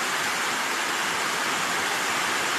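Steady broadband rain falling at midday on a Saturday, a dense continuous hiss of drops with no distinct individual impacts, fairly loud and close throughout with no talk.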